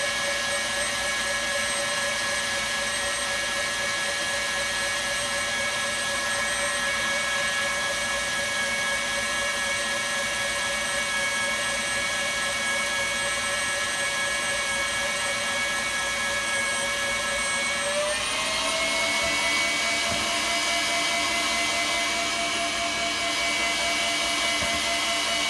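An electric mixer whips meringue as sugar is slowly added, a loud steady high whine that shifts in pitch partway through and keeps running to the end.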